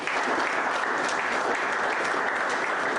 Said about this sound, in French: S'il vous plaît, applaudissez.